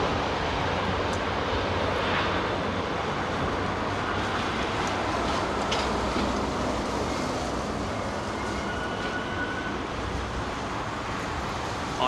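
Icelandair Boeing 737 MAX in old livery at Heathrow gives a steady, moderately distant broadband jet rumble lasting throughout, with no talking.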